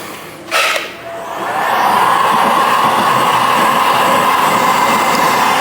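A heat gun blasts hot air onto a plastic wheel arch spat on a Land Rover Defender, a steady, close roar that swells after a short bump and then holds level without any talk.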